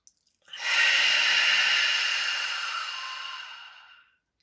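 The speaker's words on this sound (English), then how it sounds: "Try to breathe in deeper" A single long, deep inhalation through the nose, rising quickly after a brief pause and holding steady for several seconds before tapering off, close and clear in a quiet room with no talking.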